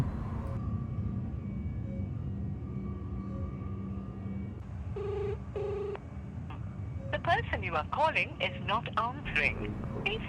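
A phone call is placed, with a short run of dialing tones followed by ringing that goes unanswered. A steady background hum runs throughout and voices come in near the end.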